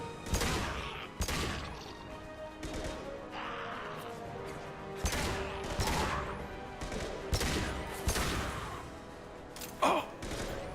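Gunfire in the video game Mass Effect 2 comes as a series of loud, sharp shot bursts, irregularly spaced and close, with brief pauses and a final double burst near the end.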